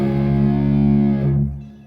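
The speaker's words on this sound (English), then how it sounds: "messing around with distortion, feedback, that type of thing" A single sustained electric guitar note rings out heavily distorted and thick with harmonics, holding steady at close, loud level before cutting off abruptly near the end, with a feedback-like edge.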